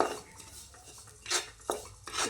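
Sesame seeds roasting in ghee in a pan, with soft scraping and a few sharp metallic clinks from a spoon against the pan, quiet and close with no voices.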